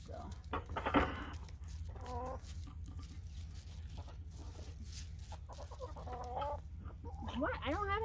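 Chickens cluck and murmur close by on a farm beside a horse-training area, with a rooster-like squawk near the start and several rising, wavering calls toward the end over a low steady background hum.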